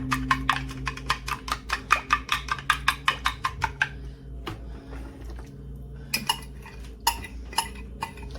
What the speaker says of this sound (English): Give this another stir.